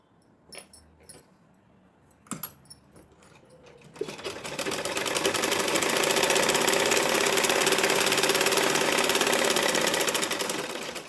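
A sewing machine stitches the fitting seam of an anarkali gown made from an old saree, starting after a few faint clicks and handling knocks, then running in a fast, steady, close whirring rattle.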